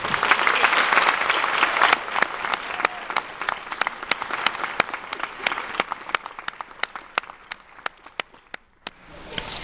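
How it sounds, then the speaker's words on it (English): A graduation audience applauds the staff at a valedictorian ceremony. The dense clapping opens full and thins over time into scattered individual claps, with a near-silent dip just before the end. "Could everyone please join me in pausing for a moment to applaud all of the staff on their outstanding efforts to get us here"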